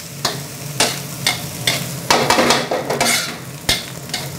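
Chinese kale stir-fried in a hot pan for Thai soy-sauce fried rice, loud close sizzling broken by repeated sharp scraping strokes of a spatula in an uneven rhythm, no voices.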